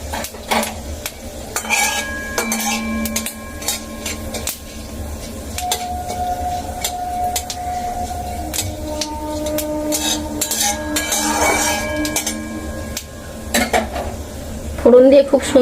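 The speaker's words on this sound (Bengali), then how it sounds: "ফোড়নটা একটু ভালো করে ভেজে নেব।" A dried red chili and a spoonful of five-spice sizzle gently in a little oil in a wok, under close metallic clinks and scrapes of a spatula stirring against the pan.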